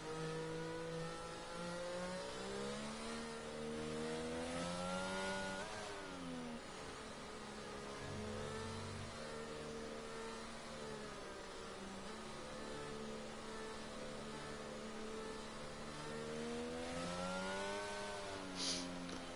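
Formula 1 cars race around the Jeddah circuit in F1 22, a sustained high engine whine with rising and falling pitch as the cars accelerate and shift, steady and continuous without talk.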